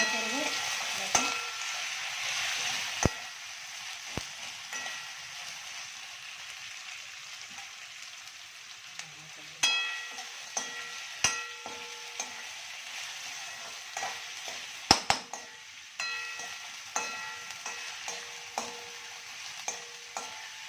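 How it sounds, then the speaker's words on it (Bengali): Onion and pre-fried chicken fry in a pan for chilli chicken, a steady soft sizzle broken by clinks and scrapes of stirring, close and alone without voices. "আগে এটা দিয়ে দেবো পেঁয়াজ, আর এটা আমরা ভেজে রেখেছিলাম। এটা একটা 1 মিনিট 2 মিনিট ভাজা ভাজা করবো।"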